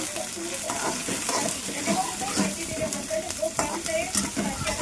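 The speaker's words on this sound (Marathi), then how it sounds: "कांदा चांगला फ्राय करून घ्यायचा" Chopped onion fries in a pan while being stirred, a continuous sizzle broken by frequent scraping strokes of the spoon, close and fairly loud, with no one talking.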